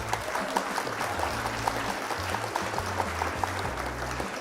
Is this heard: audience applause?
yes